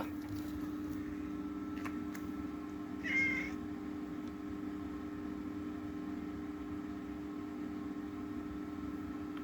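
A house cat gives a short, fairly close meow partway through, over a steady low hum and background noise.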